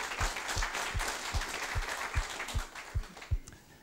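Event audience clapping for sponsors at an opening keynote, a roomful of hands producing a dense patter with a few sharp, regular thumps, steady and moderately loud before tapering off.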